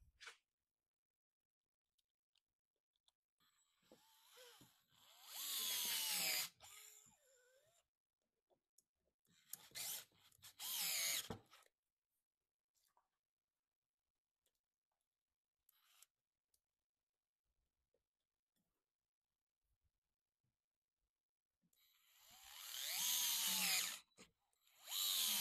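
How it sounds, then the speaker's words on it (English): An electric screwdriver driving screws into a wooden workbench top while a vise is installed, heard as several separate loud whirring bursts of a few seconds each with long quiet gaps between them. "I'll be using this handy dandy electric screwdriver."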